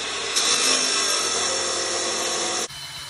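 A harsh, buzzing grind of a power saw cutting through a metal ski pylon pole, loud and continuous, stopping abruptly near the end.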